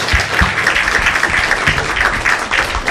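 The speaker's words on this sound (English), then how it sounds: "Let's give him a nice round of applause." An audience applauds after a talk at a Krishna devotional gathering, steady dense clapping filling the room throughout, close and loud, with no voices over it.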